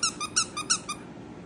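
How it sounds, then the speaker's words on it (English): A dog's squeaky toy squeaks five times in quick, evenly spaced bursts, close and clear, then falls quiet. "It has a squeaky, doesn't it?"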